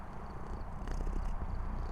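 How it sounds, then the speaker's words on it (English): A pet cat purring close by as a low, continuous rumble, steady and soft throughout with no talk over it. "I heard the purring."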